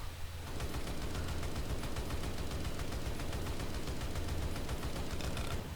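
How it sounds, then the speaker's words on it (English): An autocannon anti-aircraft gun firing in the Stormworks video game, a steady rapid stream of evenly spaced shots over a dense rumbling background, moderately quiet and continuous, without talk. "now we're going to get into the autocannon AA gun"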